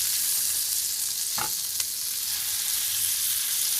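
Hot dogs frying in a pan give off a loud, steady hiss of sizzling fat, close by, with one brief scrape partway through and no talking.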